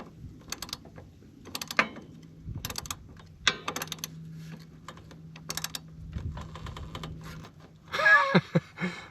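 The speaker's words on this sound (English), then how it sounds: "it looks like I'm just going to be able to tighten that nut up" A loose nut on an ATV is tightened with a ratchet wrench, giving quick, quiet clicking bursts in a close, otherwise quiet space, ending with a louder metallic clank.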